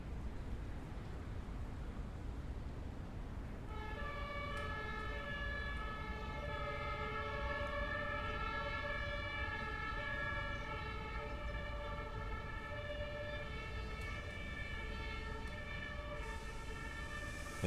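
An emergency vehicle siren in Train Sim World 2 wails on and on for many seconds, starting a few seconds in and holding steady, loud over a continuous low rail-yard rumble.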